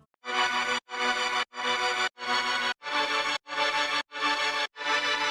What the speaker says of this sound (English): For example, you can use the vinyl strings in Nexus.